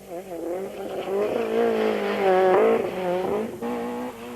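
Rally cars from the 1991 French rally championship race past, engines revving hard with rising and falling pitch as they accelerate through gears, loud and close with no talk.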